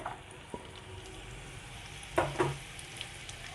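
Chopped onions, three of them, dropped into white oil in a pan, giving a soft, steady frying sizzle with a couple of louder crackling bursts partway through; no voices.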